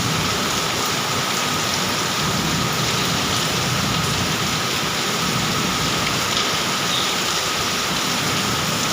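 Steady rain falls in a constant hiss, with a faint low rumble underneath and no talking.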